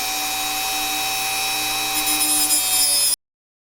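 A metal file rasping steadily along the edge of a server card, a close, continuous scraping stroke that grows slightly rougher near the end before stopping abruptly.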